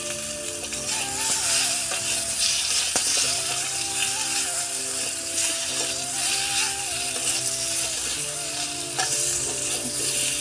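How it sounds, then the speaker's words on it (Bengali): Potato pieces with salt and turmeric frying in hot mustard oil in a village kitchen, a loud, steady sizzle with stirring and scraping throughout, no voices. "আলুগুলোকে লাল লাল করে ভেজে নেব"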